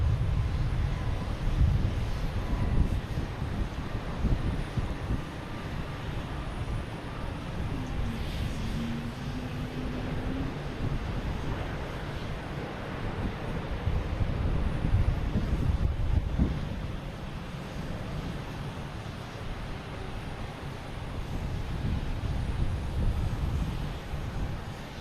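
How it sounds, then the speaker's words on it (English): An American Airlines jet taking off from Boston Logan Airport, a steady broadband roar of engine noise mixed with wind buffeting the microphone, holding fairly even across the whole stretch with no talking. "There's the American taking off, heading to Phoenix"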